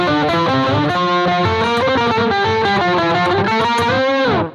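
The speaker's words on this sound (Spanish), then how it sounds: "vamos a hacerlo en una octava abajo." Electric guitar run through a Hotone Octa octave pedal set one octave down, producing a thick, loud, slightly distorted chordal phrase with a doubled low tone, played continuously before cutting off abruptly.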